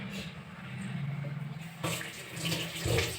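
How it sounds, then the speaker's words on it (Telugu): A kitchen tap runs steadily while vegetables and tomatoes are washed for tomato pulao. Water splashes and gurgles close by, then turns brighter and louder partway through. "ఇవి కూడా వాష్ చేసుకున్నాం"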